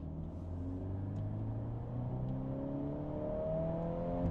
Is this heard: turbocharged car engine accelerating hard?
yes